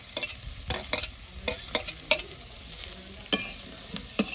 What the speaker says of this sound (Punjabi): ਹੁਣ ਇਹਦੇ ਵਿੱਚ ਆਪਾਂ ਪਾ ਲੈਣੇ ਪਿਆਜ਼ ਪਿਆਜ਼ਾਂ ਨੂੰ ਵੀ ਆਪਾਂ ਫਰਾਈ ਕਰ ਲੈਣੇ